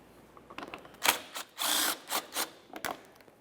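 A power tool whirs in short, quick bursts with small clicks between, fairly faint and close, while removing a 10mm mounting bolt from the front bumper cover of a 1994-1997 Honda Accord.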